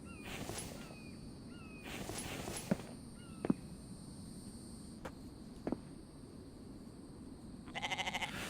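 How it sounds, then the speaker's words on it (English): A goat bleats on a roof in the survival game The Infected, with several short bleats spread across the clip, fairly close and clear over a quiet background hiss, plus a few sharp clicks. "We must have a goat or something on the roof. It sounds so close."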